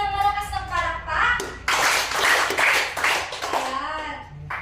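Classroom applause at a school lesson: a burst of clapping from students, fairly close and busy, starting after a teacher's question and fading out, with children's voices mixed in.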